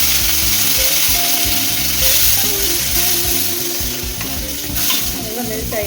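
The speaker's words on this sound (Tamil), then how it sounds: "இந்த தக்காளியை அதில் போட்டு நல்லா பேஸ்ட் பண்ண போகிறோம்." Chopped tomatoes frying in a pan for a hotel-style sambar, sizzling steadily while a spoon scrapes and stirs them down into a paste; a loud, continuous close-up sizzle with clattering stir strokes throughout.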